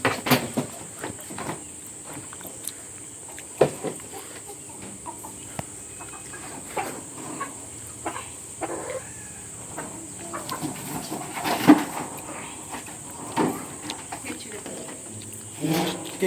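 Chickens at a poultry farm cluck intermittently, with scattered short calls and rustles at moderate distance over steady background noise, and a little talk nearby.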